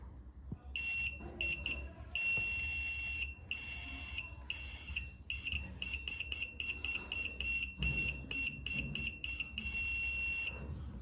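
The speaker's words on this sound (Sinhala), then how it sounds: "ඔයාලා බලන්න පුළුවන් හොඳ සවුන්ඩ් එකක් තියෙනවා මේකේ බසර් මෝඩ් එකේ" A SAMWA YX-360 analog multimeter in buzzer mode gives loud, piercing beeps, long tones at first and then rapid on-off bursts, heard close up with a low hum behind.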